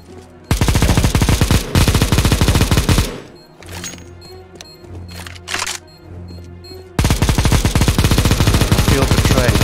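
Automatic gunfire in the shooter game CS:GO: long rapid bursts of close, loud shots open and close the stretch, with a quieter middle of sparse shots and game noise.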